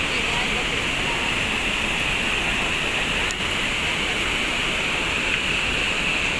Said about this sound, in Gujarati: પાણી કેટલા ફોર્સમાં જાય છે ને